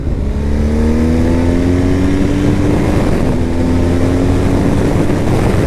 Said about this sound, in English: All right, we're gonna get some throttle here.